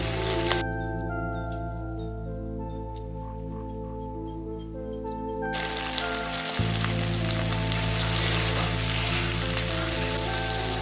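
Chicken meat fries in a pan over a high gas flame, a steady hiss and sizzle like rain that swells louder partway through, with no talking.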